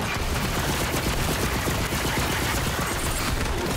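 Dense, continuous gunfire from a Borderlands 3 weapon, a rapid unbroken stream of shots at steady loudness throughout.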